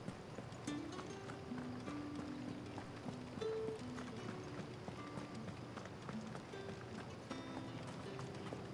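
Horse hooves clip-clop steadily in the video game Final Fantasy XVI, a quiet rhythmic trot beneath soft game music, with a voice speaking occasionally over it.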